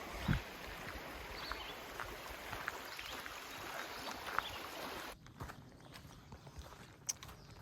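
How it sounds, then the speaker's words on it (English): Steady rushing of running water beside a hiking trail on the Appalachian Trail in Pennsylvania, a continuous broadband wash with a few soft footstep-like knocks, dropping suddenly to a quieter level near the end. "I love hiking next to the sound of running water"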